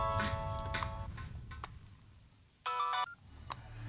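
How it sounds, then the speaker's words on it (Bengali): A telephone rings in a dramatic film scene, its electronic tone sounding in short separate bursts over a quiet background. "ফোন বাজছে।"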